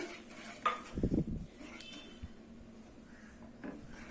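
A spoon scrapes and clinks against a metal pan while stirring sugar into milk for vermicelli payasam, a brief burst with quieter kitchen clatter before and after.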